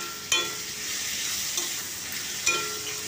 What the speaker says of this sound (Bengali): এই শুকনো মশলাগুলো খুব ভালো করে কষিয়ে নেব।